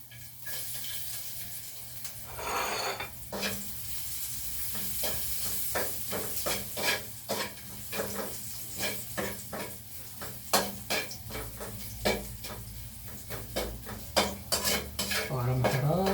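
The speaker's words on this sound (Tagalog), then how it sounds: "Yung pinagprituhan ng tuyo o halo, doon natin isasangag ang kanin." Garlic and rice frying for sinangag in oil left from frying dried fish, with a steady sizzle under repeated clinks and scrapes of a utensil against the pan.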